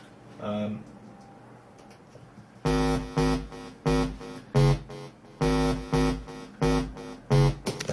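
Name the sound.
synthesizer bass preset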